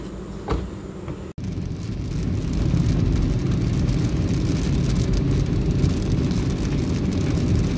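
Rain pours steadily, a dense rushing patter that swells after a brief sharp click and holds evenly to the end.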